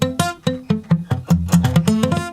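Guitar barre chords strummed repeatedly with a weak fretting hand, about ten separate strums in an uneven rhythm, each one buzzy and choked and dying away quickly, close and clear with no talking.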